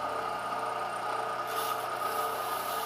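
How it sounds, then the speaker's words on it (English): A steady, abrasive whirring hum of a belt sander rough-shaping wood for an RC model plane kit, constant and close with no pauses. "Doing a little rough shaping using the belt sander."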